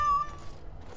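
A cat in the video game Dragon Age Origins gives one short, clear meow at the start, followed by quiet game ambience.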